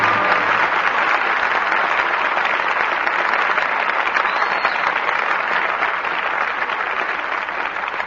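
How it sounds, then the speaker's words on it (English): A radio theater studio audience applauds after a drama performance, producing a dense, continuous wash of clapping that holds loud and steady throughout. "your applause for tonight's performance calls our stars back to the footlights"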